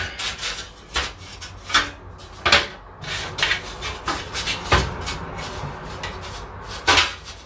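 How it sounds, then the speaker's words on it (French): A small brush scrubs inside a filter in repeated short, uneven strokes, each giving a bright rasping rub close to the mic, with no talking. "Donc vous passez la petite brosse comme ça dedans."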